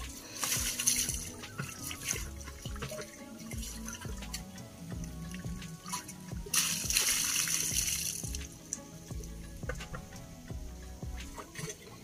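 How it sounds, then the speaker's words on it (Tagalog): Water is poured into a vessel in bursts, splashing and trickling close by, with chickens clucking faintly in the background. "Lagyan na ng tubig."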